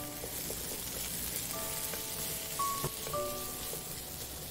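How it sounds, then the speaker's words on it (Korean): Zucchini and onion stir-frying in scallion oil, a soft continuous sizzle with a few faint utensil clinks and scrapes against the pan, quiet and close with no talk. "파기름에 양파를 넣고 양파가 투명해질 때까지 볶고 애호박을 넣고"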